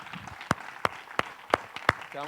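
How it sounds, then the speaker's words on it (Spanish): A church congregation claps in a short run of sharp, evenly spaced hand claps, about six crisp beats at a moderate tempo, fairly close and moderately loud, with a voice briefly heard at the end. "Le puedo dar un fuerte aplauso al Señor una vez más"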